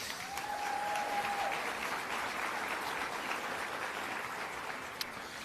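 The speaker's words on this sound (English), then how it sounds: "So I want to give a round of applause to all of you guys for actually coming today." Applause from a seated lecture audience comes across as a faint, even wash of clapping that holds steady for several seconds without any cheering.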